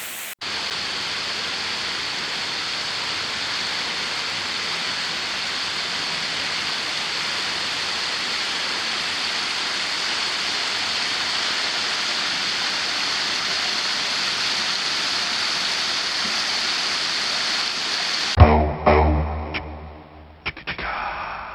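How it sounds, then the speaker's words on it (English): Steady, loud roar of Florida's tallest waterfall, a 70-foot drop, filling the scene with continuous broadband rushing water before cutting off abruptly near the end. "we're looking at the tallest waterfall in Florida"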